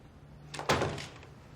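A door thuds shut nearby, a single dull impact with a short rattling tail, over a low steady hum.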